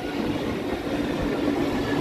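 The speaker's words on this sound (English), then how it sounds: "I think there's our train right behind it." A London Underground train arrives at Marble Arch station, rumbling and roaring steadily along the tracks with a rolling mechanical drone, loud and close.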